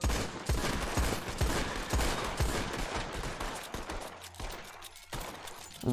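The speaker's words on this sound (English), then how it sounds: "revolvers out, all 6 rounds. Ready. Fire!" A funeral salute of revolver shots, six-round volleys fired in a rapid ragged burst of sharp cracks, loud and close at first, then thinning out into scattered echoing reports.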